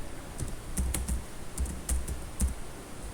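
Text is typed into Excel cells on a computer keyboard, with a dozen or so distinct key clicks in small irregular clusters, close and fairly quiet over a faint background hiss, with no talking.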